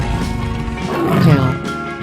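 A cartoon tiger roars in a 3D animal slide video game, a growling burst swelling near the middle over steady game music.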